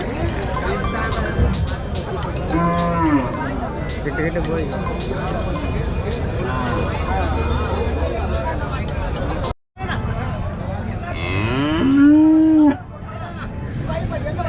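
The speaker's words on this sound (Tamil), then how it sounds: "அந்த லைனில் ஃபுல்லாக நிறைய மாடு கட்டி வச்சுருக்காங்க" Cattle lowing amid a busy outdoor crowd at a cattle market in Tamil Nadu, people talking nearby, with one louder, drawn-out moo near the end.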